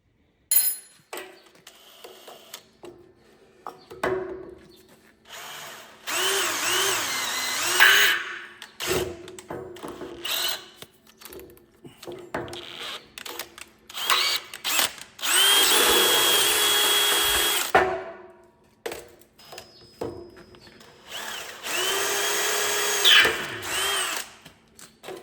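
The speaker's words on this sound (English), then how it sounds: "drill through where the grease hole is" A power drill bores through the grease nipple hole of a part being reassembled on a Heath Super Chaser, running in repeated loud bursts of several seconds each with quiet pauses between them.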